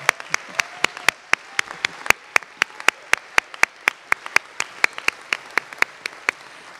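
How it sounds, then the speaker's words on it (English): An audience at a university honors convocation applauds scholars' families as they stand, sharp individual claps ringing out in a steady, evenly spaced rhythm, fairly near and clear, with no voices over them. "We applaud you all."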